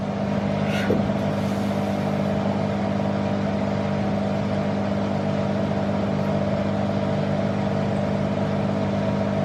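A Bosch Exxcel 1400 Express washing machine (WFO2865GB) runs an intermediate spin on a 30°C woollens program. It gives a steady, even motor whir and drum hum with a faint tonal whine, continuous and close, with no talking.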